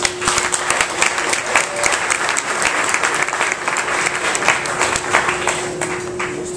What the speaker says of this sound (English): Please, a round of applause for the next speaker.